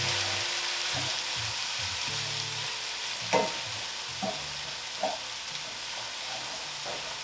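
Beef empanada filling frying in a hot pan, sizzling steadily while a utensil chops through the mixture, giving a few sharp knocks against the pan.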